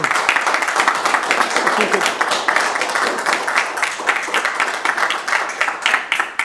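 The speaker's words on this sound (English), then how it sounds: "If we could kindly hold off on the clapping, that would be great." Steady applause from a city council meeting audience, many hands clapping densely and continuously throughout, fairly loud and close.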